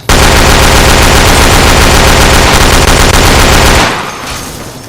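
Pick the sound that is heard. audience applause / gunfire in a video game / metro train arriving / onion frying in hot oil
gunfire in a video game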